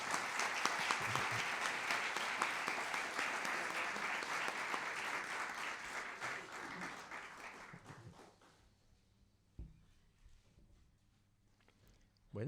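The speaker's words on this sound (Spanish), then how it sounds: "un aplauso si se lo merece" An audience at a book translation presentation at Casa del Tíbet claps steadily and warmly for about eight seconds, then the applause thins and fades, leaving scattered rustles and a few low voices.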